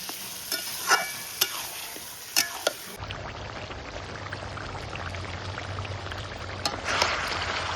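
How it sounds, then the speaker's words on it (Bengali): Mutton kosha being stir-fried in a pan with green chillies for a birthday goat-meat feast: a spatula scrapes and knocks at first, then a steady close sizzle with continuous stirring takes over. "মাংসটা এখন আমি কষিয়ে নিচ্ছি।"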